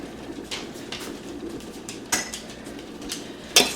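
Flour being stirred into a pan of chicken drippings for gravy, with utensil scraping and clinks against the pan, a few louder knocks near the end, close and fairly quiet.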